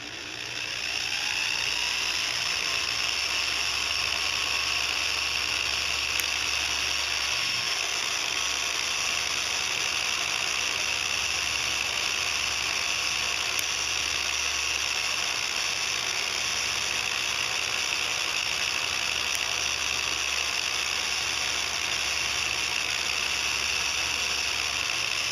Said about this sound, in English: so I got my little generator hooked up to the drill